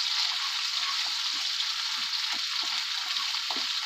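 Ground spice paste fries and is lightly stirred in a pan while shukto is cooked, giving a steady, even sizzling hiss with faint soft stirring taps underneath.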